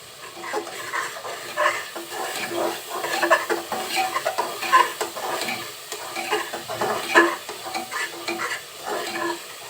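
Beef and spices being stir-fried in a pan make a loud, busy sizzle with repeated scraping stirs throughout, close and continuous, with no talking.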